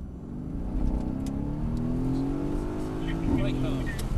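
A Mercedes-Benz AMG GT S accelerates hard, its engine note climbing steadily in pitch up close, while people talk over the roar.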